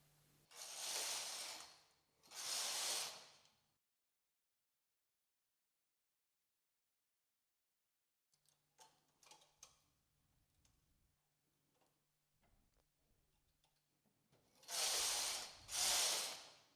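A domestic knitting machine transferring stitches to form a central cable: two loud broadband carriage sweeps open and close the clip, with a long stretch of soft clicking and ratcheting from the needles and transfer tool between them.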